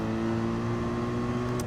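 A Gr.3 race car in Gran Turismo Sport runs flat out through a fast kink at Dragon Trail, its engine holding a steady, loud tonal drone with a brief bright blip near the end.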